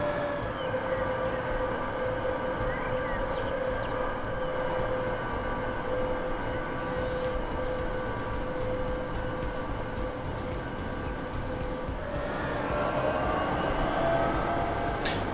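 A DB class 181 electric locomotive hauling a train in Transport Fever 2, a steady rumbling rail roar with sustained whining electric tones, constant and fairly close, pitch shifting slightly near the end.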